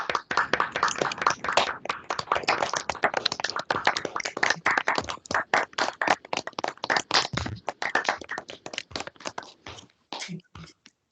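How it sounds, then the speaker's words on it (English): Audience applause at the close of an evening event with poet Nikky Finney, dense and sustained clapping from a crowd that thins into scattered claps near the end, with no talking. "Round of applause."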